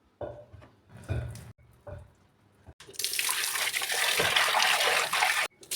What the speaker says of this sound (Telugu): మంచిగా మెత్తగా ఉడికాక దాన్ని మనం స్టెయిన్ చేసుకోవాలి